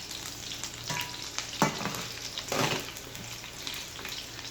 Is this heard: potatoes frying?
yes